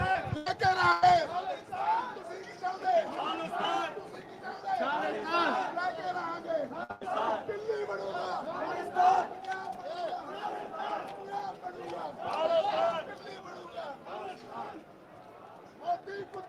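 Crowd of mostly men chattering at a Khalistan Referendum vote in San Francisco, a steady dense babble of many overlapping voices with occasional louder shouts, fairly close and continuous throughout.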